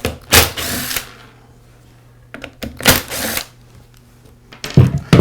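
Two screws come out of the black pad housing of a Porter Cable sander with short, clicking broadband bursts of a screwdriver, set apart by quiet gaps and a faint steady hum.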